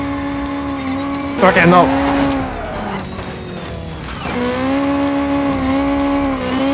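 Loud, raspy racing engine from a Honda Civic sleeper build in a racing video game, with a brief burst of tire squeal and skidding in a corner. The engine drones steadily throughout while someone speaks briefly.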